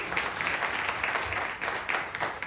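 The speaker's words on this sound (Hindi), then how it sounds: "एक बार जोरदार तालियां हो जाए" Audience applause at an awareness program event, a fairly quiet, distant patter of clapping hands continuing steadily throughout.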